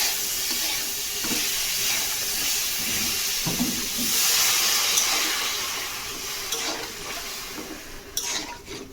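Chalta chutney mixture simmers in a pot with sweet syrup and water, giving a steady bubbling hiss, with occasional soft clinks and stirring scrapes of a utensil.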